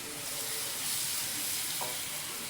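Ground masala paste hitting fried onion in a hot pan, a steady close sizzle and hiss with stirring scrapes throughout.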